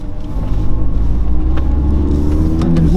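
Audi R8 with a V10 engine at Stage 1 tune, heard up close as a loud, steady low rumble with a rising, revving edge toward the end, with no voices.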